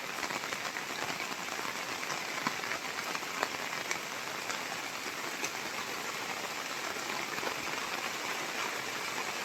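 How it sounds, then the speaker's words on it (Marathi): Heavy rain pours steadily and loudly across an outdoor mango-grafting spot in a village, a dense unbroken hiss of drops hitting surfaces with no pauses throughout. "पाऊस जोराचाच पाऊस आहे."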